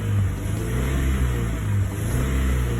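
A BMW E46 engine in limp mode, with a faulty O2 sensor or fuel trim suspected, revs loudly and steadily close by, held at about 4,000 rpm with the pedal half pressed.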